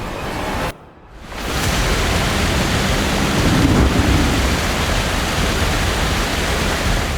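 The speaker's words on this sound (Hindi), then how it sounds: "आगे एक झरना दिखा।" A mountain waterfall on the Manimahesh trek roars as a dense, steady rush of water, close and loud, continuing unbroken after a brief dip near the start.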